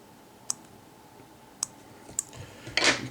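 Scissors snip hackle fibres on a mayfly fly pattern during fly tying, three sharp close clicks spaced about a second apart, then a brief rustle.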